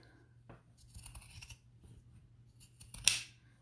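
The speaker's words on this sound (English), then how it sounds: "Just trim all the way around the base." Scissors snip fabric around the base of a sewn bucket tote, giving several close, crisp cuts in short bursts with a louder final snip, and no talking.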